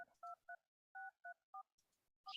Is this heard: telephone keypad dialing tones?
yes